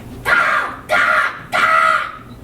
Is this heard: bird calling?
yes